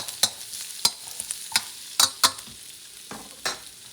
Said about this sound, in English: Make sure the garlic doesn't burn, so you're going to move it a little bit around.